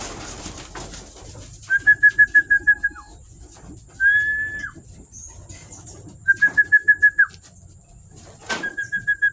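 Pet pigeons cooing while they feed, near and clear: repeated rhythmic bursts of soft pulsing coos, several phrases in a row with brief quiet gaps between them.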